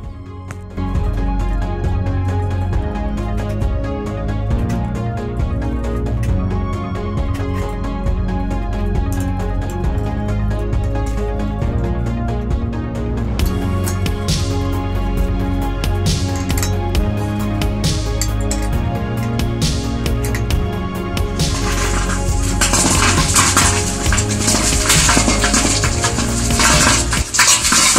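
A new ball mill on its first run churns with a continuous loud metallic rattling and clattering of balls tumbling inside, steady throughout with a harsher hiss rising toward the end.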